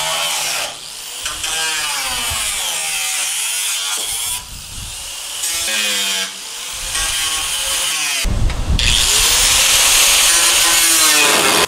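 Saw blade cutting through a container house wall to open a window, a loud continuous rasping cut with brief pauses between strokes, close and alone without talk.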